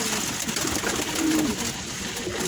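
Pigeons coo softly at a feeding and watering spot, a low brief murmur partly buried in steady background noise, over about two and a half seconds.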